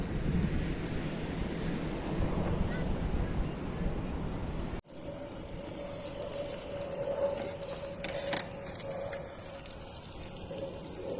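Strong, cold wind roars across the microphone with a steady rush of sea surf behind it, loud and continuous throughout.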